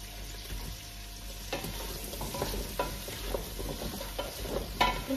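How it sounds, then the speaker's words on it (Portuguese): Butter sizzles in a pan as food is sautéed and stirred, a steady close crackle with scrapes and soft knocks of the utensil and no talking over it. "Refogo sempre num bocadinho de manteiga as minhas gorduras"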